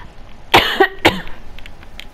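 Two harsh coughs come close to the microphone, about half a second apart, followed by a few soft, faint sounds.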